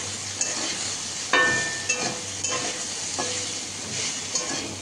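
Potatoes and soybean chunks fry over low to medium heat with turmeric and salt, a steady sizzle broken by a few sharp stirring scrapes and clinks of a utensil in the pan; no one speaks.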